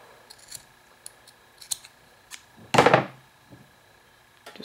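Scissors cut through paracord with one loud, close crunching snip, preceded by a few light clicks and handling taps, with no talk.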